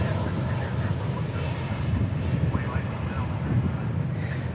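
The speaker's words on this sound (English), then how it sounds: "So it looks like both of our 747s are landing on runway 13 right." A Boeing 747 lands on runway 13 right at DFW airport, heard as a steady low, broadband engine roar and rumble with wind noise, continuous and moderately distant.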